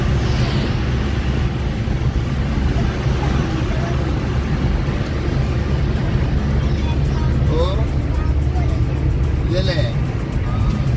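Steady rumble of a car's engine and tyres on the road, heard from inside the cabin on a trip from home to Thanjavur, continuous and fairly loud throughout.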